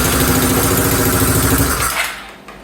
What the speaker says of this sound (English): I think there's an exhaust leak.